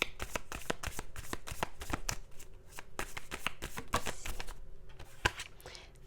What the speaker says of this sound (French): J'ai juste tiré quelques cartes du tarot.